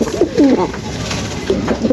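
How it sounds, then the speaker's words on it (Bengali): Black nun pigeons coo in short, throaty rolling bursts close by, a couple of phrases separated by a pause over a light background hum. "এই মুহূর্তে স্ক্রিনে দেখতে পাচ্ছেন আরেক জোড়া ব্ল্যাক নান কবুতর"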